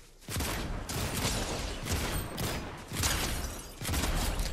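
Rapid gunfire bursts from a Fortnite Zero Build bunker fight, loud and dense, with several clustered volleys in quick succession.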